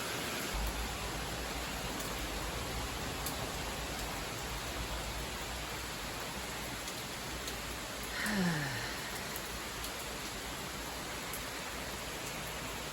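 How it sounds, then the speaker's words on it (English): Heavy rain pours steadily over a front perennial garden, a dense unbroken hiss throughout, with a brief louder swell near the end. "This is too much rain."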